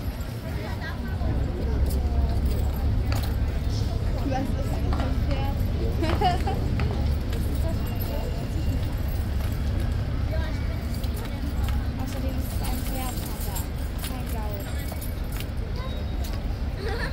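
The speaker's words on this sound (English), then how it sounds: "really big horse." Hooves of a very large horse clip-clopping on pavement amid a crowd of tourists, steady rhythmic clatter under constant chatter and loud crowd noise.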